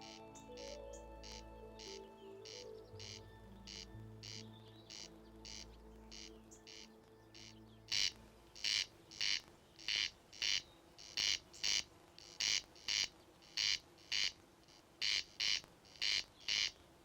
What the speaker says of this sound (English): Here in Northern Ireland, the call of the corncrake.